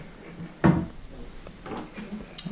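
A kitchen cabinet door in a rental apartment thumps open once, loud and close, followed by softer knocks and a faint creak.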